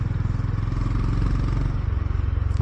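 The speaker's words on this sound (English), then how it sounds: "It's not the motor, it's the exhaust that gives you the bop bop bop bop." Honda GB350S motorcycle exhaust giving a steady low, thumping bop-bop pulse at moderate level, close by with faint road noise and no talking.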